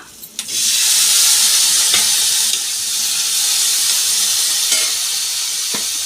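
Tomatoes dropped into a hot pan for nalleru pachadi, after tamarind, set up a loud steady sizzle of frying that holds throughout, with a few soft clinks of stirring.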